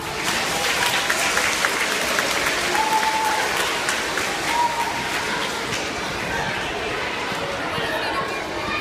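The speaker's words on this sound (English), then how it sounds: "Let's give him a round of applause." A room full of schoolchildren and staff at a school PBIS celebration gives a round of applause for a student about to read his poem, dense even clapping that holds steady throughout with a little chatter underneath.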